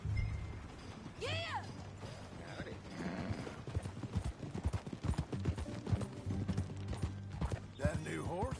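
Horse hooves clip-clop at a steady ride in the Red Dead Redemption 2 game on PS5, fairly close and mixed with a whinny, music and game sounds, with voices speaking over parts of it.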